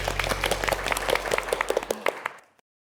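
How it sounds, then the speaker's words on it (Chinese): A studio audience claps for a contestant on a televised workplace show: a short burst of scattered clapping that thins out and stops after about two and a half seconds. "再一次掌声送给白松岩"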